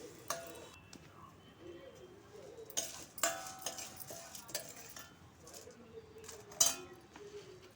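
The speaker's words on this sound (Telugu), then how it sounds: "ఈ ధనియాలు కూడా కాస్త ఎర్రగా వేయించుకోవాలి" Coriander seeds dry-roasting in a pan while being stirred, heard as faint, uneven scraping and rattling, with a few sharper metallic clinks against the pan in a quiet room.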